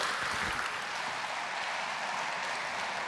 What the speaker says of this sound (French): Allez, c'est à vous, applaudissez-le.